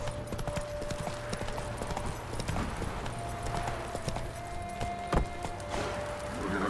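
The horse Roach trots in The Witcher 3, hooves clip-clopping in a steady rhythm on the ground, close and clear, with faint tack jingling and no speech.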